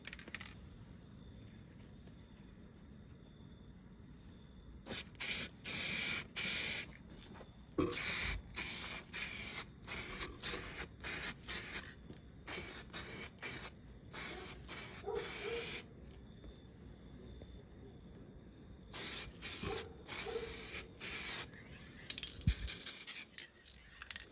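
Repeated short hisses of spray as a coat goes onto a restored car headlight, bursts coming in irregular clusters over quiet background with small clicks.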